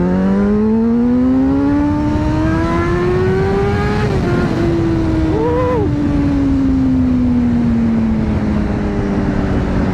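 A Honda CBR600RR motorcycle accelerates hard through the gears on a road ride, its engine whine climbing steadily in pitch, dipping briefly at a shift, then pulling on. It is loud and close throughout, with constant wind rush and no talk.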